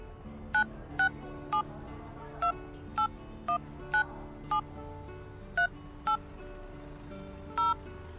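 Phone keypad tones sound while a number is entered, about a dozen short beeps at uneven spacing over a low steady background hum, with no talking during the tones.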